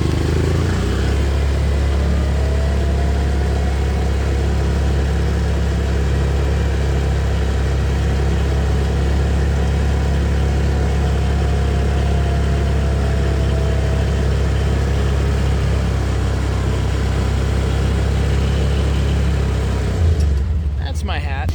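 Vehicle engine idling steadily during groundcover landscaping with myoporum and ice plant, a loud continuous low rumble for about twenty seconds that cuts off sharply near the end.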